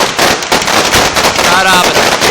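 Fireworks at the Nowra Show give off a dense run of loud crackling bursts and pops close by, with a voice briefly audible among them.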